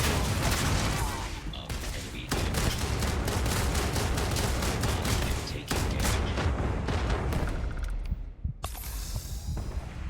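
Turret gunfire in Starfield, a dense barrage of booming shots that continues almost without a break and drops away briefly toward the end.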